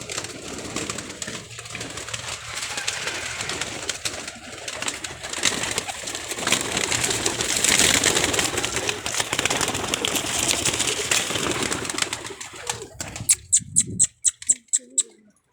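Pigeons coo continuously amid a busy, noisy background with rustling and fluttering, ending with a few sharp clicks after the sound cuts away.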